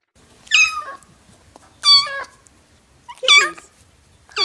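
Kittens meowing as a theater sound cue: four loud, close, separate high mews spaced about a second and a half apart over near silence, with no talking.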